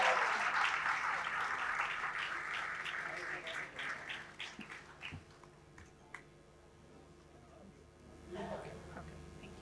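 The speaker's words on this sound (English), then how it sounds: "let's give a big round of applause to Dr. Shoaib Ahmed Khan Sahab for all the wonderful work" An awards ceremony audience applauds, a dense burst of clapping that thins into scattered claps and fades, with a murmur of voices in the hall.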